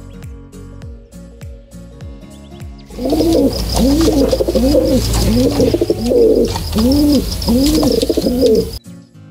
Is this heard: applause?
no